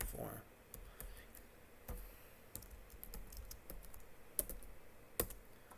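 Typing on a computer keyboard: quiet, irregular key clicks spread over several seconds, a few sharper taps standing out, against a low background hum.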